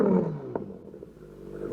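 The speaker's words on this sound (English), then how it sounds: "That tone is so deep and so loud and roaring." A deep, loud engine roar from a Kawasaki Ninja 1000 SX motorcycle with a Black Widow aftermarket exhaust, dropping off after a sharp rev and building again near the end.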